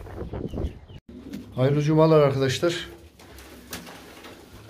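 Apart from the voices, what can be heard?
pigeons cooing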